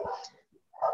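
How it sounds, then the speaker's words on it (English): Dogs barking indoors, two short, fairly faint barks separated by a brief pause. "Sorry, my dogs."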